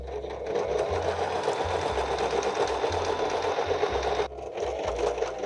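A sewing machine runs a stitch along a folded fabric hem, a close, steady whirring hum with a rapid needle rhythm that pauses briefly near the end, then resumes.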